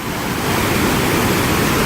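Blakiston Falls roars at close range, rushing water making a loud, steady broadband wash that continues without a break and with no voices.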